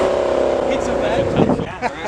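A Chevrolet Corvette C8 rumbles steadily at a car meet outside GM offices, its exhaust giving a deep, sustained idle with a brief swell near the end, close and loud beneath background crowd noise.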